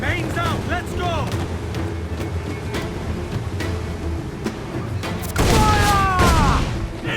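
Ship cannons fire in a naval battle in Assassin's Creed Black Flag: a series of deep booms and rumbling blasts under crew voices shouting orders, swelling into a louder barrage near the end.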